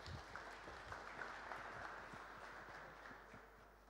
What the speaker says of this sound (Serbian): Molim vas jedan aplauz.